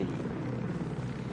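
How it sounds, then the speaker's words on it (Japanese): Helicopter in Ghost Recon Wildlands gives a steady low rotor thrum, a dense rumbling drone that holds at even loudness through the brief moment with no talk. "ん？ ヘリかそれ。 ヘリ。"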